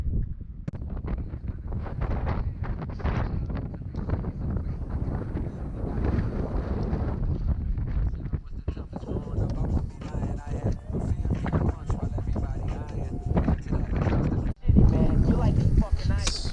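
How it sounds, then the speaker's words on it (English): Strong wind buffets and roars in loud, gusty bursts on a mountain trail in New Hampshire's White Mountains, with a person speaking briefly through the constant blustery noise. "It's really windy out."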